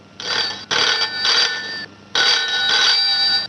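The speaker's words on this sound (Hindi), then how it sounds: "ठीक 8 बजे अश्विनी को फोन करो और उसका जवाब ले लो।" A telephone rings loudly in two long bursts, the first broken into three quick pulses, with no talk.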